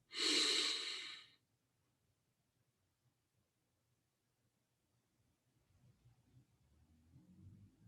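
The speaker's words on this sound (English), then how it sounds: "take 3 deep breaths. So go ahead and inhale very deeply and then retain the breath." During meditation, a deep, loud inhale through the nose lasts about a second, then the breath is held in near silence with only a faint room murmur returning toward the end.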